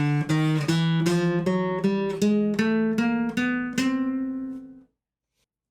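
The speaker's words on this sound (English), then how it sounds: "The chromatic scale sounds like this." A chromatic scale picked on guitar, about a dozen evenly spaced notes climbing by half steps, each plucked close and clear, the final note left to ring and decay into silence.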